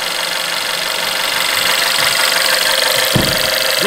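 VW TSI car engine idling after repair, a steady, fairly quiet hum with a continuous hissing, airy wash and a brief low thump near the end, recorded up close.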